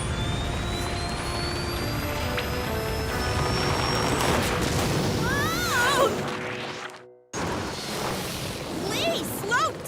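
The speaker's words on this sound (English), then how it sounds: "Okay, everyone, fire up your boots." Cartoon jet boots blasting at maximum thrust give a loud, continuous roaring rush with rising whistling whooshes, cutting out briefly near the end before roaring on again.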